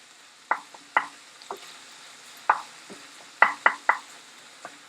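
Seasoned minced meat fries in a pan for a Chinese tofu dish as a spatula stirs and breaks it up, giving sharp, irregular scrapes and taps over a faint, steady sizzle with no talking.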